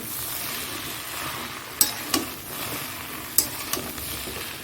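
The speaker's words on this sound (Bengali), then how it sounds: "মশলাগুলো ভালো করে চেড়ে নিই" Spices for a jackfruit and prawn dish stirred in a hot cooking pan, with a steady sizzle under a few sharp metallic scrapes and clinks of the spoon against the pan.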